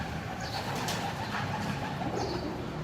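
Pigeons cooing beneath a carved local sandstone bridge, two or three soft, low coos close by over a faint ambient hum, with no talking.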